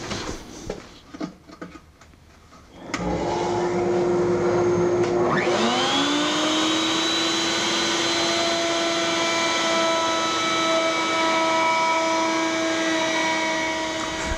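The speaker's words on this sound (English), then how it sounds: "After rounding over the seat at the router table" A router table rounds over the edge of a wooden stool seat: a few faint knocks and clicks, then the router spins up with a rising whine and holds a loud, steady high-pitched scream close by.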